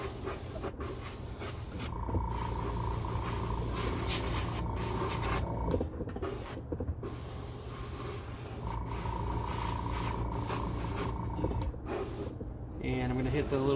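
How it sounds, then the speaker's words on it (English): An airbrush sprays paint onto the nozzles of a replica Rolls Royce jet engine part, a steady airy hiss that runs almost without a break and dips briefly a few times, close up, under faint talk. "the airbrush just gets it in there really fast"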